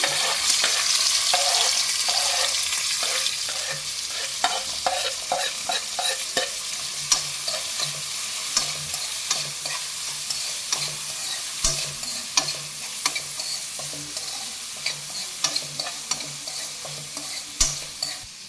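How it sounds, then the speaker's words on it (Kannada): Chopped onions frying in hot oil with cumin for a lady finger curry, a steady loud sizzle broken by frequent scraping clicks of a spoon stirring the pan, continuous for the whole stretch with no voices. "ನೋಡಿ ಎಣ್ಣೆ ಕಾದಿದೆ ಈರುಳ್ಳಿ ಹಾಕ್ತಾ ಇದ್ದೀನಿ"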